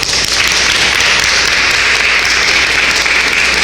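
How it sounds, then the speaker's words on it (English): Audience applause at a national reparations convention in Washington, D.C., a loud, sustained wash of clapping holding steady throughout with no voices over it. "You can give a round of applause for our brother."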